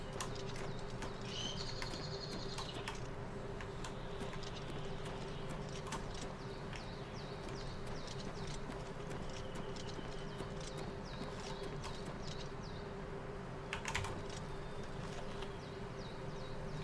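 Horse hooves clip-clop steadily in the Oblivion Remastered video game, a soft rhythmic patter over a faint ambient hum, with a few brief bird-like chirps nearby.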